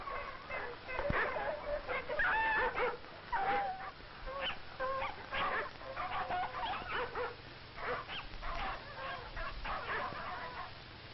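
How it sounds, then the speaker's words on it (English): Sled dogs on a snowy Alaskan trail bark and yelp in a busy, overlapping chorus of sharp calls, fairly close and loud, continuing throughout with no pause. "the dogs have difficulty hauling the sled"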